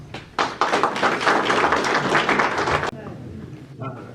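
An audience applauds a speaker being welcomed to the stage at an evening talk, with dense, loud clapping that starts abruptly, holds steady for about two and a half seconds, then cuts off, leaving quiet room noise and a brief voice.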